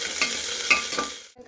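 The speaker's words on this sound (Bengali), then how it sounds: "এবার এগুলোকে ভালো করে ভাজতে হবে।" Green chilli and chopped onion fry in a pan with a steady close sizzle and a few stirring scrapes, ending abruptly.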